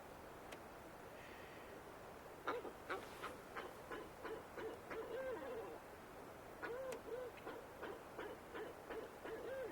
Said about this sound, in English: I could hear that it was an owl.